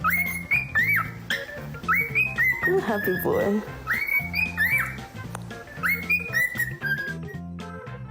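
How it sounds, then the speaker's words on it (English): A parrot chirps and whistles in repeated rising and falling calls, close and fairly loud, while a person talks briefly over it. "The parrots know exactly how to steal your attention with chirping."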